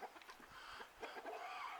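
Chickens clucking outdoors on a farm, several short soft calls scattered in a quick uneven rhythm at moderate distance, fairly faint over light background noise.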